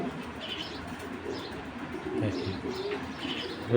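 Racer pigeons coo softly and keep up low murmuring calls, with faint wing flapping and a brief louder flutter at the end; no talking.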